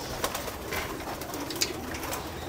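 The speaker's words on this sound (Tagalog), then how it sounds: "So yan na nga sila mga kalapatids, kainan na." Pigeons coo softly in a loft at feeding time. A few faint calls and light rustling or flutters sit over low background noise, with no talk.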